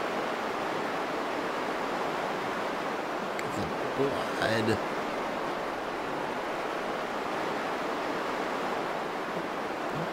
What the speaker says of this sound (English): It's so noisy down here with all that water.